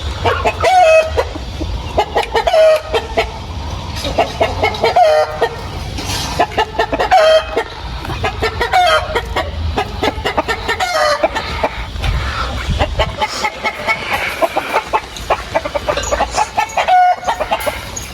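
A rooster crows repeatedly amid clucking hens, loud and close, with crows recurring every couple of seconds over a busy farmyard background.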